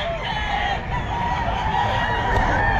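Roosters and chickens at the Bocaue pet market on a rainy morning, heard as a dense, steady din of overlapping crowing and clucking mixed with market bustle and faint voices.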